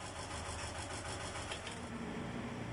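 A lifeboat engine running at a steady idle, a low continuous hum with a faint mechanical rattle, even in level and heard alone without voices.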